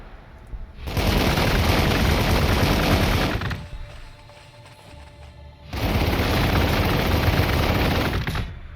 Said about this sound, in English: I'm gonna have the Fortress of Redemption fire on it.